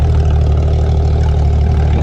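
A Porsche 911 992 GT3's combustion engine idles in a steady, loud low rumble with an even drone that holds for the whole span, no voices over it.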